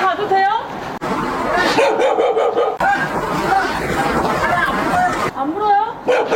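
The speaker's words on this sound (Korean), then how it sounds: "취재진을 경계하며 사납게 짖는 진돗개" A Jindo dog barks fiercely and repeatedly at close range on a residential street, sharp bursts mixed with yips, while people talk over the barking.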